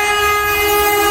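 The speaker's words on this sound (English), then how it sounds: "passing by now is an LNER Azuma service to London King's Cross" An LNER Azuma express bound for London King's Cross sounds a loud, steady two-tone horn at close range on the East Coast Main Line at Potters Bar, with the rumble of the passing train beneath.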